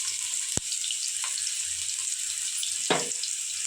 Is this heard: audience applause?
no